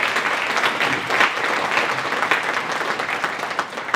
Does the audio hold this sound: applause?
yes